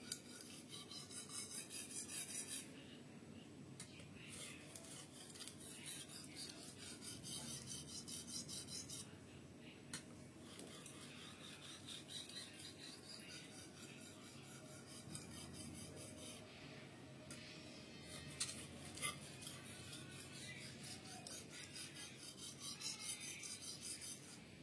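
A short knife drawn lightly over a fine whetstone, steady soft rasping strokes repeating close up for a long stretch with no talking.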